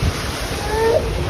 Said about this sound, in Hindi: एक बहुमंजिला इमारत की छत पर देखिएगा स्विमिंग पूल का पानी किस तरह से हिचकोले मार रहा है।